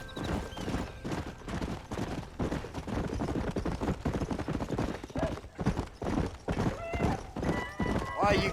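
Horse hooves gallop in Red Dead Redemption with a fast, steady clip-clop rhythm, loud and close, blended with voices, a horse whinny near the end and scattered thuds.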